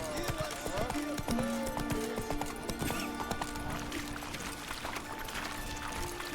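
Roach, the horse in The Witcher 3, clip-clops along with a steady rhythm of close hoofbeats, joined by a brief whinny and ambient game sounds, while someone talks over it.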